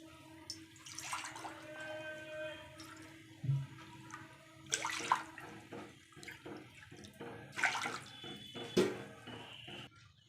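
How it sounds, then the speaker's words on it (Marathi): Bowlfuls of water are poured into a kadhai for bhajani chakli dough, heard as several separate splashing pours with quiet pauses between them, fairly soft and close. "आता त्याच वाटीच्या साहाय्याने इथे मी 3 वाट्या पाणी घेणार"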